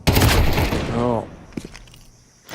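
A burst of AK rifle fire in a Counter-Strike esports match at IEM Chengdu comes as a quick loud rattle of shots at the start. A caster talks over it, and sharper game sounds follow later.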